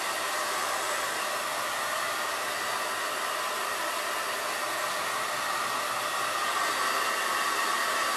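Hair dryer blowing continuously on a handmade sloth pillow, a loud, steady, close broadband whoosh that holds unchanged throughout with no voices.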